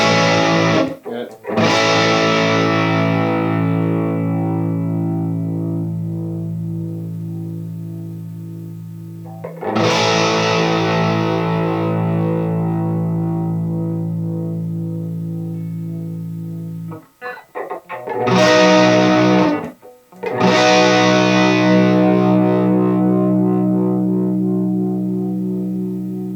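Distorted electric guitar chords ring out through a Badcat amplifier and sustain for long stretches, struck three times with heavy amp saturation, slowly decaying between hits.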